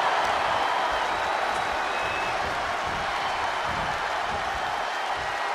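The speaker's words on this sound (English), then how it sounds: "you hear this capacity crowd following you on that journey" A capacity arena crowd in WWE 2K24 during an Elimination Chamber match keeps up a steady, dense roar of cheering and applause, broad and unbroken throughout, with no talk over it.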